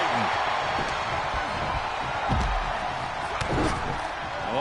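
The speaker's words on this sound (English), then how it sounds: "The sound of this crowd is deafening, and he's asking for more." Wrestling arena crowd in a video game, a dense sustained roar with cheering swells and a couple of low thuds from the ring beneath it, steady and loud throughout.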